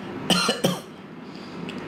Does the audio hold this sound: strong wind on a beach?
no